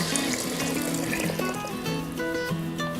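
Cooked moth bean water poured into a pan of spicy Kolhapuri misal curry gravy, a continuous trickling, splashing pour lasting a few seconds, with no talk.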